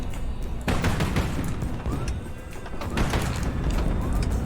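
Heavy ship guns firing in the naval battle game HighFleet, a dense barrage of booming shots and blasts rolling continuously with no pauses, loud and close.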